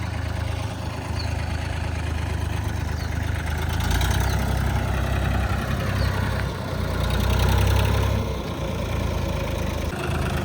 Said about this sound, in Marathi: माऊलीला चालवायचा आहे हा महिंद्राचा ट्रॅक्टर